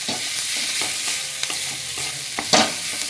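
Boiled potato pieces stirred and fried in a pan with turmeric while making a begun bharta, giving a steady sizzle with scraping stirs and a sharper clatter of the spatula near the end, close and without talk.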